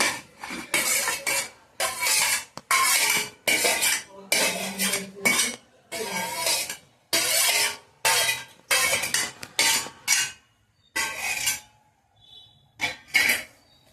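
Roasted green chillies, cumin and tomatoes being pounded and ground in a stone mortar, a close series of loud hard knocks and grinding scrapes in irregular bursts separated by short pauses, with no voices.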